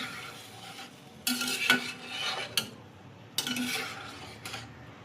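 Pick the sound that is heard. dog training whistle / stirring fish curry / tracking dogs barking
stirring fish curry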